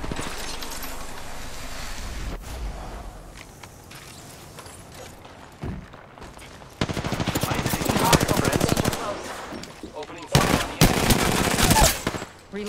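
Rapid gunfire bursts in Apex Legends on the Kings Canyon map, with bursts of automatic fire in the second half between quieter mechanical clicks and rattles, loud and dense.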